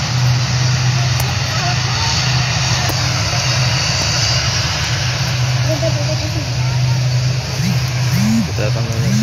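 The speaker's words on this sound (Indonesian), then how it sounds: "menyaksikan langsung penerbangan pesawat Wings Air di Bandara Tanpa Padang Sunners" A Wings Air airplane at Tampa Padang airport in Mamuju holds a loud, steady engine and propeller drone close by, with a rising whine near the end.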